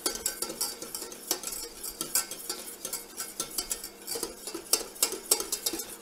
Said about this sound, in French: Donc voilà, on fouette bien partout.